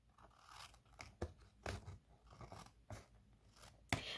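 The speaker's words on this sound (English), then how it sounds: "I can take my scissors and I can trim" Close scissors trimming the edge of a folded card-stock card, several crunchy snips spaced irregularly with quiet gaps between them.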